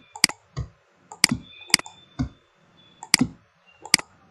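A handful of sharp, close computer mouse clicks and space-bar taps while working in ArchiCAD, spaced irregularly in quick pairs and singles with near silence between them.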